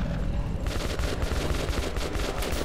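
Rapid gunfire from a newly acquired weapon in the video game Metro 2033 Redux, a dense continuous burst of shots starting after a brief lead-in and sustained loud to the end, with no talk.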